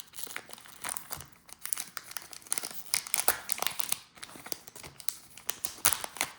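Trading card collector booster pack being torn and peeled open, close and fairly quiet, with a run of crinkling foil and irregular ripping bursts over several seconds.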